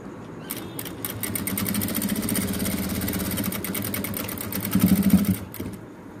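A sewing machine stitches fabric with piping during a tailoring lesson, a rapid mechanical chatter of needle strokes in bursts that start and stop, with a brief louder run near the end.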